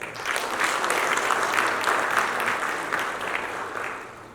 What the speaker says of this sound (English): I want to request you to clap for the ambassador and his embassy.